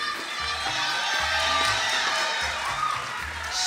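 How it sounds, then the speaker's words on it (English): A crowd cheers at a college commencement ceremony as office assistants are named, with loud whoops and shouts over a dense mass of voices and a few claps, while a low, rhythmic music bed plays underneath. "let's bring the cheering"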